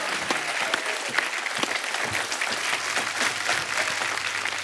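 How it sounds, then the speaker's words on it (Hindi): A studio audience at a TV comedy show claps throughout, a steady, fairly distant wash of applause with scattered sharper claps and no talking over it. "तालियां बजती रहनी चाहिए आपकी"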